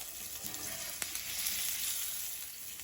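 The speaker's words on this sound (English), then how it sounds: "We just wanna sear it." Blackened salmon sears in a hot pan with a dense, steady sizzle, close and continuous, with a single sharp tap about a third of the way through.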